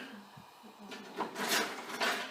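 A kitchen drawer slides open with a wooden rub and light metal clatter of utensils, close and brief, while tongs are fetched during sous vide egg bite cooking.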